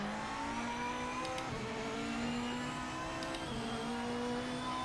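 A race car engine in the Project Motor Racing game drones steadily at the Kyalami circuit. The sustained, moderately loud tone shifts pitch slightly as it revs, with no speech over it.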